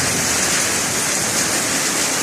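Dense, steady rushing of heavy rain pouring from a drainpipe, a continuous loud hiss and splatter with no pauses.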